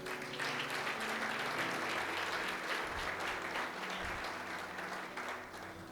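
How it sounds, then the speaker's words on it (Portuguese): A church congregation applauds steadily through a worship service, the dense clapping sustained and fairly distant, with a low hum of music or organ beneath it. "Você pode aplaudir o Senhor?"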